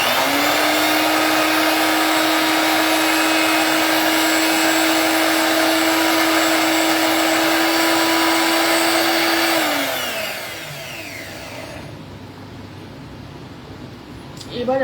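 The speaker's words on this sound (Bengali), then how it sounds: "এটাকে এবার ঘুরিয়ে নেব, মানে গ্রাইন্ড করে নেব। গ্রাইন্ড না, পেস্ট বানাবো আর কি এটার একটা।" A kitchen mixer grinder whirs loudly and steadily while blending mango, chili and cheese into a paste, holding a constant pitch for about ten seconds before spinning down, leaving quieter room sound.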